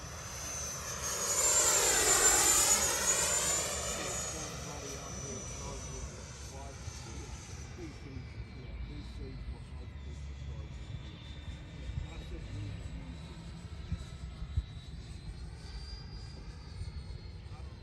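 E-flite F-16 Falcon 80mm RC jet with KMRC afterburner passes loudly overhead, a rising then falling turbine whine that peaks close by, then settles into a steadier, more distant drone as voices chatter nearby.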